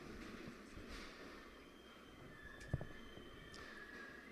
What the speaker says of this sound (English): The metro begins to move